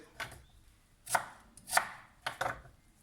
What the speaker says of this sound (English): And then roughly chop your shallot.